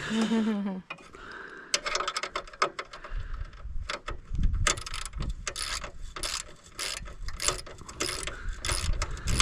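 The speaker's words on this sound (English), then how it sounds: "This is very nifty, these ratchets." Ratchet wrench clicks in rapid bursts, close and fairly loud, during transaxle work on a Mountfield tractor mower; brief talk and workshop handling noises come at the start.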